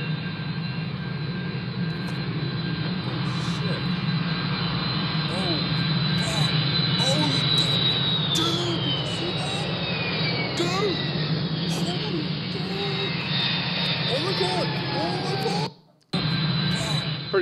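Airplane jet engine roaring steadily for about sixteen seconds, with a high whine rising and falling over the broad rumble, then cutting out briefly near the end.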